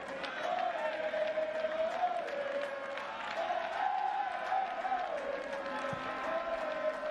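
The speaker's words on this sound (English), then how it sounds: "the sparse crowd here at the Stade Silvio Cato, energized by that effort" Sparse stadium crowd at Stade Silvio Cato during a Haiti versus Belize World Cup qualifier, applauding and cheering in a steady, distant wash beneath a commentator's voice.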